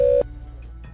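A landline telephone line tone on a call: a single loud, steady tone lasts about a fifth of a second, then cuts off abruptly, leaving a low hum with a couple of faint clicks.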